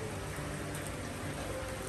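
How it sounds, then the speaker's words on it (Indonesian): Steady rain falls outdoors in a garden where aglonema plants are grown, a dense, even hiss of drops with no voices. "Kebetulan waktu lagi hujan, cuaca lagi hujan"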